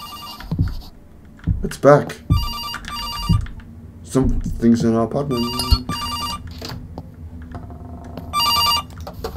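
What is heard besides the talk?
telephone ringing, from video game September 7th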